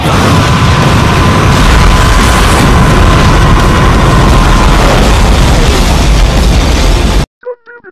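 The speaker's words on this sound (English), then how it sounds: "I'm throwing the explosion right now." A cartoon explosion sound effect, a loud, sustained roaring boom that rumbles for several seconds before cutting off abruptly, followed by a brief voice.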